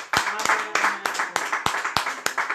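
A church congregation claps in praise to the Lord, sharp hand claps landing in a steady rhythm roughly every third of a second, with a voice faintly audible beneath.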